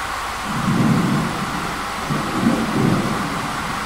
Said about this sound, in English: Thunder and lightning.